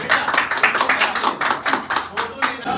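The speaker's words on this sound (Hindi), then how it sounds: "तालियां" Short bursts of hand clapping from a small group in a coaching class, uneven and close, with voices mixed in.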